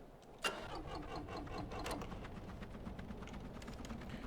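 A helicopter engine in the game Stormworks throttles up in an Arctic hangar, starting with a sharp catch and settling into a steady, moderately loud rumbling drone that keeps running evenly.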